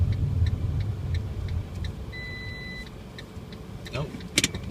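Fiat Panda Lounge warning chime for low fuel, a short thin electronic tone sounding inside the cabin over steady engine and road rumble, with a brief clatter near the end.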